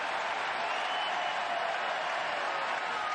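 A stadium crowd roaring at a USL Championship soccer match between the Tampa Bay Rowdies and Louisville City in Tampa Bay, Florida, a continuous broad wash of cheering and applause with no break.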